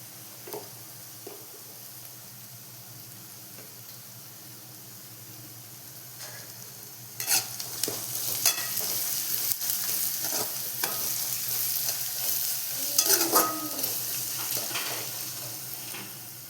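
Spices such as turmeric and chili powder sauté in a pan on the stove, giving a soft steady sizzle that grows busier halfway through, with scattered scrapes and stirring clicks and no talking.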